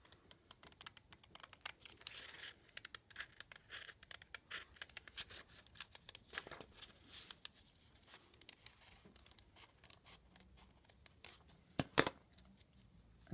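Scissors snip through felt to cut out a larger heart shape, giving a faint, close series of rapid small clicks and rustles with a sharper snip or two near the end.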